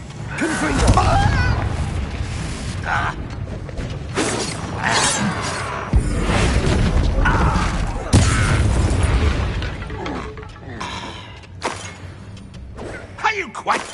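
Confringo blast spells and combat effects in the video game Hogwarts Legacy, loud crashing and shattering hits at several points under a continuous stretch of spoken dialogue and battle noise.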